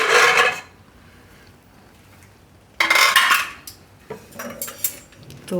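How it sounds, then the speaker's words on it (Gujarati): Metal clanks and scrapes of a pressure cooker lid being handled and opened in a home kitchen, in two short bursts with quiet between and a few lighter knocks near the end. "કુકર હવે આપણે ખોલીને જોઈ લેવું."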